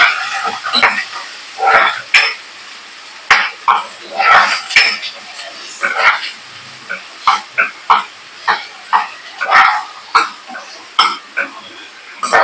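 Potatoes and peas being fried in a pan for stuffed capsicum, with a spatula scraping and knocking against the pan in irregular bursts over a low background sizzle, close and fairly loud.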